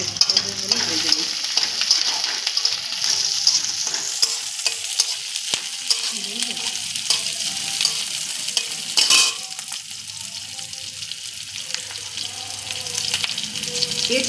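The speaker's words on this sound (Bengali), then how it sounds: "একটু দারুচিনি দিলাম আর একটু ধনে দিলাম, আস্ত ধনে দিলাম। এটাকে পেস্ট করবো বলে ভেজে নিচ্ছি।" Cinnamon and whole coriander seeds fry and sizzle in hot oil while being stirred, a steady close crackle with scraping stir sounds and no talk, for a paneer butter masala paste.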